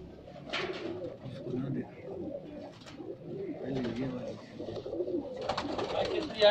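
Pigeons coo softly in repeated throaty bursts, mixed with nearby voices talking and some rustling in the background.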